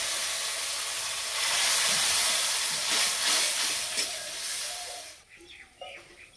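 A little water is poured into a hot pan of fried spices and boiled masoor dal, bursting into a loud steamy sizzle that holds for several seconds and then fades into softer bubbling and crackle.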